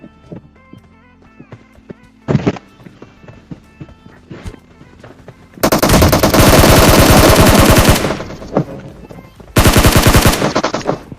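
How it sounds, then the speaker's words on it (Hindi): Video game gunfire: quiet footsteps and clicks, then two long bursts of rapid automatic fire, loud and close, separated by a brief pause. "तभी ये बंदा हमारे ऊपर गोली चलाता है।"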